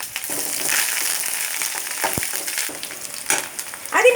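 Hissing, crackling sizzle of curry leaves dropped into hot oil with frying small shallots for papaya curry, steady and close with a few stirring knocks.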